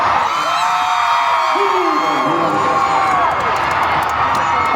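A large stadium crowd cheers and whoops continuously at a concert at Stanford Stadium, a dense, loud roar of many voices with no break.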